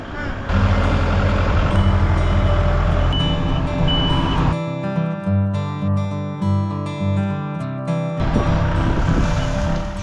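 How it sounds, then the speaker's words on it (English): A tractor engine runs loudly and steadily outdoors on a farm, a low rumbling drone that shifts to a throbbing idle midway before revving back up. "I could hear the tractor going outside"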